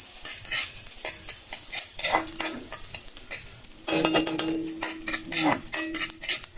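Onion and garlic sautéing in a pan for ginataang tambakol, a steady bright sizzle with a spoon clinking and scraping against the pan now and then, close and fairly loud.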